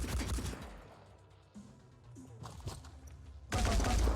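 Gunfire in the video game Phoenix Point, bursts of shots near the start and a loud burst at the end, with quieter scattered shots between.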